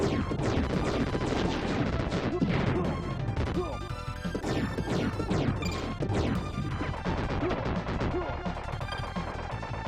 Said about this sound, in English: Break all the glass